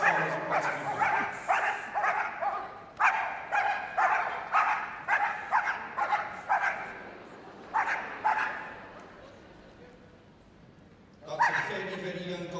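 Young police dog in early training barks repeatedly during a West Midlands and South Wales police display at Crufts, a steady series of loud yips and barks in bursts with brief pauses, over faint crowd background.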